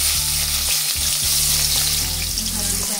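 Onions and cumin frying in hot oil in a kadai for Hyderabad egg curry, a loud, steady sizzle with a few stirring scrapes, no talk.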